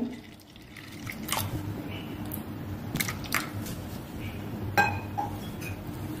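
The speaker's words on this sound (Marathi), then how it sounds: "यात घालूया थोडं माठातलं थंडगार पाणी" Cold water from a clay pot poured into spiced buttermilk, with a few bright glassy clinks and light drips scattered over a quiet room tone and no speech.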